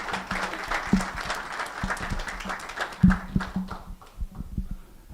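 An audience at a youth cricket tournament media launch gives sparse, scattered applause, a handful of distinct sharp claps at irregular intervals rather than a full ovation, thinning out toward the end.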